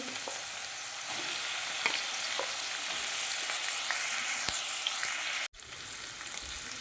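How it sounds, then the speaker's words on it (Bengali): Minced onion paste, garlic paste and capsicum hit hot oil for a chilli chicken dish, giving a loud, steady crackling sizzle throughout, with a brief cut near the end before the frying resumes. "তেল গরম হয়ে গেছে আমি দিয়ে দেবো পেঁয়াজ বাটা রসুন বাটা দিয়ে দেবো আমি ক্যাপসি"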